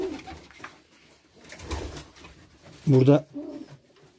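Çorum Çıplağı breeding pigeons coo in a loft, with one short, deep cooing call standing out near the end. Someone speaks softly nearby, and faint rustling fills the background.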